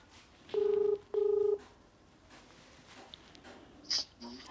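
Two long electronic keypad tones from a phone being dialed, close and clear, followed by faint clicks and a brief chirp in a quiet indoor room.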